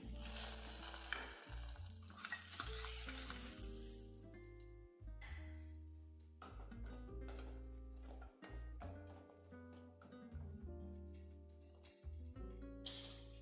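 Sizzling spice tempering is poured into lentil sambar and stirred, giving a close, continuous frying hiss that fades under steady tonal background music, with no talk.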